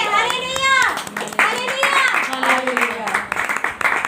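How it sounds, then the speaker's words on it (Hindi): A group clapping hands at a Christian prayer gathering, steady close claps running under loud singing and talk. "ताली दीजिए"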